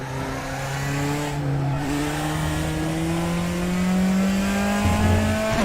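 A race car engine in the RaceRoom sim holds full revs, a loud steady whine that climbs gradually in pitch through the gears, close and continuous with no voices over it.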